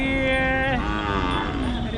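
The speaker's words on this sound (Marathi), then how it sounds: "चला आणखीन एक आपण बैलजोडी बघतोय" A bull at a cattle market moos loudly and close by in one long, sustained bellow that shifts pitch partway through, with no talk over it.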